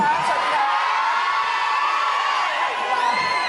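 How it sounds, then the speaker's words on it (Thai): Audience at an outdoor stage show in a market, a dense continuous roar of cheering, whooping and shouting that is loud and steady, with no distinct talk. "ขอเสียงปรบมือกับทุกคนอีกครั้งหนึ่งฮะ"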